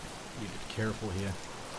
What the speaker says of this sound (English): the rain will do as good in masking sound